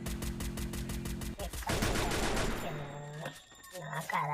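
Gunfire in the Free Fire video game, a rapid burst of automatic shots followed by scattered single shots and other game sounds, with a voice talking over parts of it.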